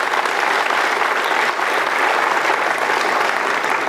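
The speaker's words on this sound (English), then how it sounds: "I usually end when I hear applause" Sustained, dense audience applause fills a room at a Republican club gathering after a political speech by Marco Rubio, steady and loud throughout with no break.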